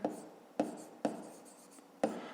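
Pen strokes scratching on paper while a fifth-grade math solution is written down, four distinct taps spaced about half a second apart, each followed by a soft scraping trail, quiet and close.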